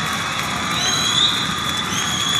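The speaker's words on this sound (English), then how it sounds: "now listen to the home crowd cheering on Mark Zoranek" A home crowd roars and cheers for a British swimmer during a men's 200m individual medley semi-final at the 2018 European Swimming Championships in Glasgow, a sustained loud wash of shouts and whoops from a large arena.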